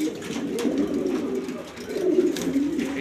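Pigeons in a loft holding mostly hens with a few cocks coo in low, rolling phrases, fairly close and steady throughout, with no talk over them.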